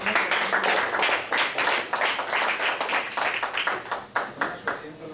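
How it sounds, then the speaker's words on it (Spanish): A congregation claps during a Spanish-language church Bible study service, a dense run of rhythmic hand claps filling the room, with voices mixed in beneath. "Un aplauso al Señor."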